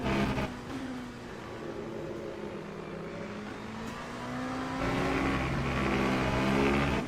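An LMP2 prototype race car engine in the Le Mans Ultimate sim racing game drones and climbs through the revs, shifting gears, with the pitch rising again toward the end and staying loud and steady throughout.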